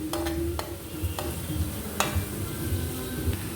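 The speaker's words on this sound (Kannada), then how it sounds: "ಹೀಗೆ ಆನಿಯನ್ ಫ್ರೈ ಆಗ್ತಾ ಬಂದಿದೆ." Sliced onions sizzle in hot oil in a pan while a spoon stirs them in crab sukka, with a soft steady frying hiss and a few sharp scrapes and clinks of the utensil against the pan.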